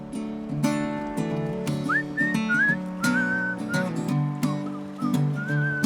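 A person whistles a short melodic tune over a steady, sustained musical backing, with gliding notes rising and falling.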